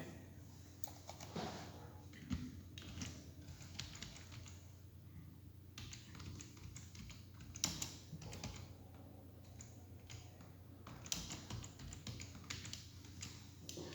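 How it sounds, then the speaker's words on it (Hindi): Faint, steady computer keyboard typing runs throughout, a soft run of clicks with occasional louder taps over a low hum, with no talking. "अगर चाहो तो मैं इसका भी आंसर आपको टाइप कर देता हूं यहां पे"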